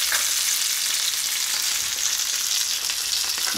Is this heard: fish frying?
yes